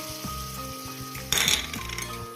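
Water poured into a pan of fried spice paste for a thin fish and vegetable curry bursts into a loud, sudden hiss of sizzling that stays strong briefly, then settles into a steady frying crackle with faint clinks.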